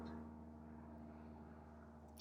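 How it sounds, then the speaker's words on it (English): A faint, steady low drone from an airplane flying overhead, a continuous distant hum lasting the whole two seconds with no voices. "I hear the airplane."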